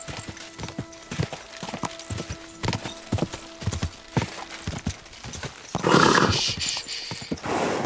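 Horse hooves clip-clop at a steady walking rhythm in the Kingdom Come Deliverance 2 video game, close and clear, with a louder burst of rustling movement near the end.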